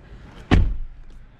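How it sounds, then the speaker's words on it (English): A single solid slam of a car door shutting on a 2020 Kia Telluride with a panoramic sunroof, one close, heavy thud standing alone against quiet background. "Shut the door."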